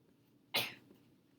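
One sharp cough in a quiet classroom, sudden and fairly close, fading quickly into low room noise.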